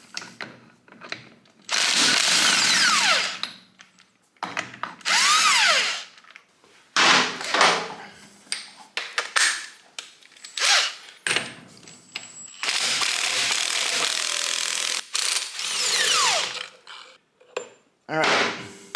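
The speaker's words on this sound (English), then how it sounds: "Pull out our Milwaukee drill here." Bursts of a Milwaukee power drill whirring in short runs, loosening the clutch basket bolt on a 1987 Harley-Davidson FXRS, several separate pulls with metallic clanks and rattles between them, close by.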